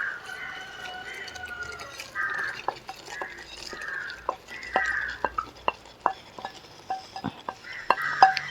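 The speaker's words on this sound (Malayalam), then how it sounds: "ഒന്ന് മിക്സ് ചെയ്ത് കൊടുക്കാം." A spoon stirs dried shrimp pickle in a pan with gravy, giving a series of sharp scraping clinks against the metal, irregular and close, over a faint soft sizzle.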